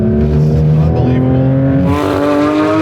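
A Porsche GT3 RS engine pulls steadily while driving, its loud, close droning tone climbing in pitch as the revs build, with a sharper, brighter rise near the end.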